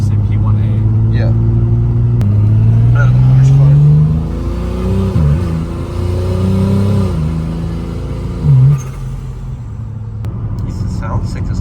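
Turbocharged BMW E36 with an 8HP70 automatic accelerating at quarter throttle on the Autobahn, engine note climbing through rising gear pulls with a shift dip, loud and close from inside the cabin while occupants talk over it.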